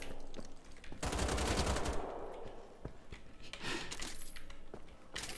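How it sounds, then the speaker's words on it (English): Automatic shotgun fire in the shooter game Wolfenstein: The Old Blood, set on the docks, comes as loud bursts of rapid blasts with metallic clatter between them and quieter gaps in between. "an automatic shotgun"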